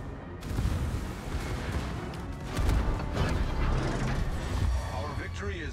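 Secondary guns of an Italian battleship firing in a naval combat video game, a dense run of booming shots and crashes layered over game noise and someone talking throughout.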